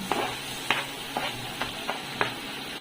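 Garlic fries in butter in a pan, a steady close sizzle broken by about six sharp scraping stirs at irregular intervals.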